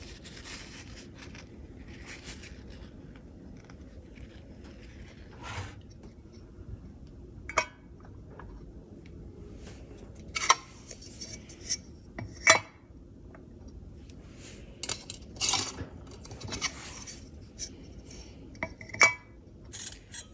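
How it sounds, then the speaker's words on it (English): Metal lids being set and screwed onto glass pint and half-pint jars of freshly rendered tallow, a scatter of sharp clinks and taps against a low steady background hum, with no talking. "Now I'm going to put their lids on."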